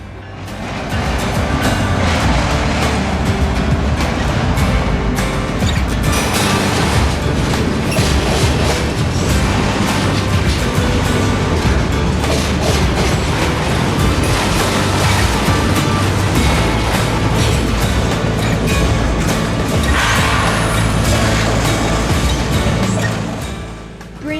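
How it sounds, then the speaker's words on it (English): A Union Pacific freight train hauled by AC45 CCTE and ES44 AC locomotives rumbles steadily through a junction in Niles Canyon, wheels clattering over rail joints for a long, loud, close pass with occasional squeals before it fades. "Up the rear was UP 5418, another AC45 CCTE, as the train cleared the junction and disappeared down the Warm Springs sub."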